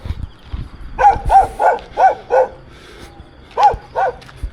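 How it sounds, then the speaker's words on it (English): Territorial dogs bark outdoors along a walking road in Tongatapu, Tonga, letting out a run of five loud, evenly spaced barks, pausing, then barking twice more. The dogs are close and there is no talk. "he's just got to keep barking and I'll carry on"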